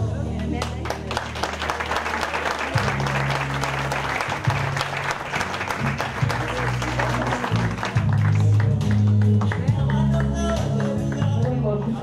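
Steady, dense applause from a school reunion audience for Ronen, continuous hand clapping filling the room for about twelve seconds while music plays underneath.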